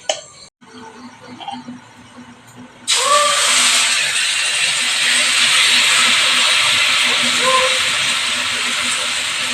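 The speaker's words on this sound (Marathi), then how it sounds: "धिरडं घालूया." Batter of sprouted mung beans hitting a hot oiled griddle, bursting into a loud, steady sizzle after a quiet start and holding strong, with brief faint voice sounds.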